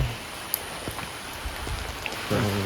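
Steady rain falls at night in a village, a soft continuous patter with a few nearer drops, close to the listener and without voices.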